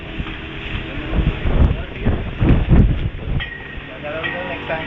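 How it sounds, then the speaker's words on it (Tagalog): Wind buffets the microphone in loud rumbling gusts, rising and falling, with faint voices underneath. "Ganda ng hangin."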